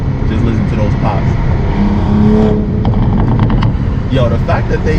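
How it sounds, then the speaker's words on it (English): Crackling exhaust pops from a 2020 Toyota Supra: a steady engine drone with a burst of sharp pops and crackles late on, loud and close, with a voice talking over parts of it. "Just listen to those pops."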